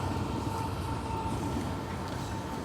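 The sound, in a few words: train going by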